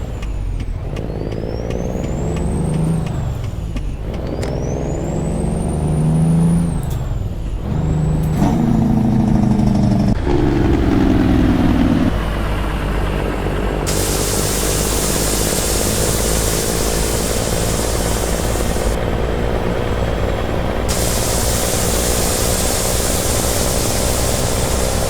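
A Peterbilt 389 truck engine in American Truck Simulator pulls an empty lowboy, its loud diesel revving up through several gear shifts before settling into a steady, heavy drone with intermittent high hiss.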